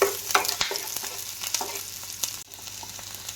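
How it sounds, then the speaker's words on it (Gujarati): Finely chopped onion sautéing in hot oil over a low flame for an Indian-style vegetable pasta, a soft steady sizzle broken by a few scraping stirs of the spoon, close and moderately quiet. "જુઓ, આવી રીતે આપણે ધીમા ગેસ ઉપર કૂક કરવાની છે ડુંગળીને"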